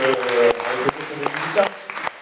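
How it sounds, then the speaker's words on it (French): Concert audience applauding a young performer at a youth talent concert, brief clapping with a voice speaking over it, moderately loud and close. "on peut encore, s'il vous plaît, messieurs dames, applaudir Romain Bisset."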